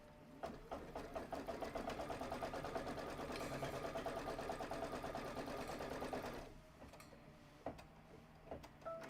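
A sewing machine runs a quilting stitch through a table topper with a fast, steady mechanical whir and ticking, close and fairly faint. It stops after about six seconds, leaving a few quiet clicks.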